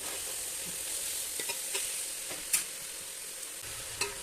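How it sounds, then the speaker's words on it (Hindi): Grated carrot halwa roasting on a high flame makes a soft, steady sizzle and crackle, broken by a few light scrapes and taps from a stirring spoon, heard up close and fairly quiet, with no voices. "और ये जो छुन छुन की आवाज़ें हैं, बस ये आना बंद हो जाएं, तो बस हमारा हलवा जो है वो रेडी है।"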